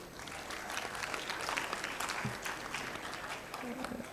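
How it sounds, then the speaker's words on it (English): Audience at a global maritime summit applauds steadily, a dense clapping from a large seated crowd, fairly distant and sustained. "Please give a round of applause"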